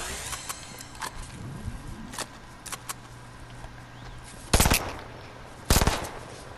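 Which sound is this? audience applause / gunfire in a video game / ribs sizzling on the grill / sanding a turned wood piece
gunfire in a video game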